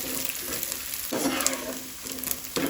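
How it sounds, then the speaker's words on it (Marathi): Edible gum fries in hot fat for dink laddu, giving a close, steady crackling sizzle with brief bursts of louder spitting and bubbling, with no voices. "ताका लागून बरो फ्राय करून घेवपाक जाय"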